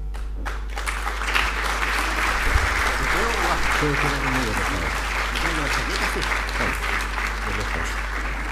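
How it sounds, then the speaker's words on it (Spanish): An audience at a university academic-year opening ceremony applauds the invited speaker, sustained dense clapping filling a hall, with voices talking over it and a steady low electrical hum beneath. "reiterar, por favor, el aplauso para la presentación de nuestro invitado especial, doctor Jaime San Martín"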